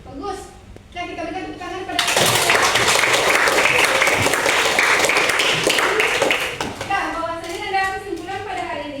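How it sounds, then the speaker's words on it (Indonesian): Classroom students clap together in a loud, dense burst that runs for several seconds, after a teacher's voice and before the talk resumes over the fading claps. "kita berikan tepuk tangan pada"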